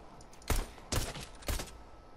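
Three sharp gunshots from a video game, spaced about half a second apart, each a loud broadband crack with a short tail over a low, steady background.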